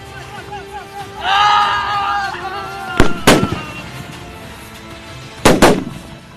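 Gunfire at the firing point of an army exercise: two sharp, loud double-crack bursts with a longer gap between them, over outdoor background noise and an earlier brief voice.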